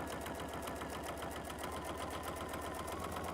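A domestic sewing machine stitches fabric for summer sewing projects at a quarter-inch seam, its steady fast needle rhythm running continuously and close up, with no talking over it.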